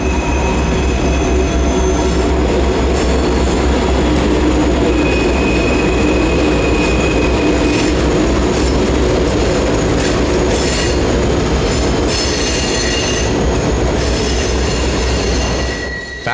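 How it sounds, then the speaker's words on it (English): Two Reading and Northern EMD diesel locomotives, led by number 425, haul a passenger train through the Anthracite Region. Loud, close, continuous engine roar mixes with rolling wheel rumble, rail clatter and occasional squealing. "Trailing the two EMDs is an attractive passenger train with an eclectic history."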